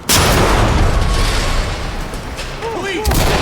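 A C2 breaching charge going off in the tactical shooter game Ready or Not, a loud heavy boom that rings out and fades over a few seconds.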